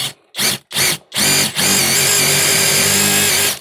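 A Parkside impact driver boring a small hole in wood: three short loud bursts of the motor, then a sustained high, hammering whine as it keeps drilling, close and loud with no talk.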